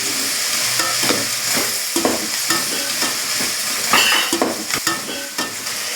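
Spices, salt and turmeric frying in hot oil for country chicken rasam, stirred in a pan with a steady sizzle and repeated scraping strokes of the spoon, close and continuous with no talking.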